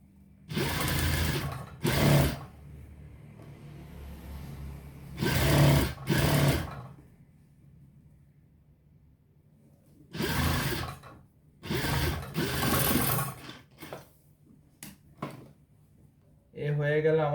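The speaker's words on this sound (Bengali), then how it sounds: "এ হয়ে গেল আমাদের জামাটি সেলাই করা।" A sewing machine stitching a dress, heard as several short bursts of rapid whirring chatter separated by quiet pauses, close and fairly loud.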